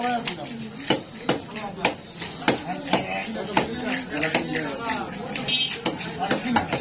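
A big Kutla fish is hacked apart at a busy fish market, with sharp, irregular knife chops thudding on a board while people talk nearby.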